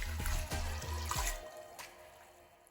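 Water poured into a pot of lamb chettinad curry base with ginger garlic paste and turmeric, a close splashing gush for about a second and a half that fades to quiet dripping.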